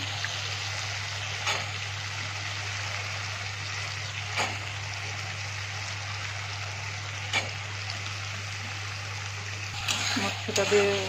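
Green peas fry in oil spiced with turmeric and cumin powder, giving a soft, steady sizzling hiss over a low constant hum, with a few faint clicks and stirring knocks near the end.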